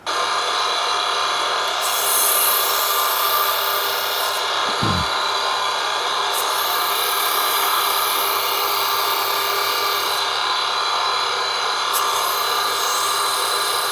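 A flattening wheel grinds down an opal doublet with a steady, continuous abrasive whir that holds level throughout, with faint periodic rubbing swells and one brief low thump partway through.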